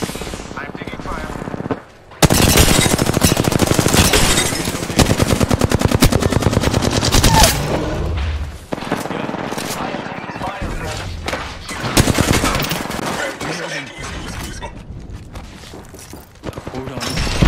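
Dense video game gunfire in a squad shooter, sustained rapid automatic bursts with booms and brief pauses, loud and close throughout, while players talk over it.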